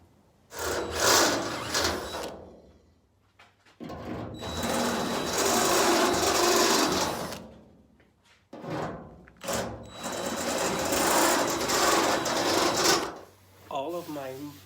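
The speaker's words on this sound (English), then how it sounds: "All of my forward holes are drilled to size and my two center rear holes are drilled to size." Drill bursts boring holes in the crowned deck lid of a 1969 Camaro for a rear spoiler: three long, loud whirring runs of a few seconds each, separated by brief pauses and short bits of handling noise.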